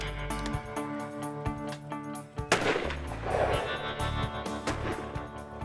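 A sniper rifle fires at another rifle scope, a single loud close shot with a sharp crack and rumbling tail, heard over dramatic background music.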